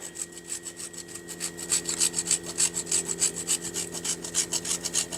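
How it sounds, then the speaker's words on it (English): Parmesan cheese being grated onto a truffle pizza, a steady run of rhythmic rasping strokes, close and fairly loud, with no talking. "I'm going to grate a bunch of cheese onto this pizza."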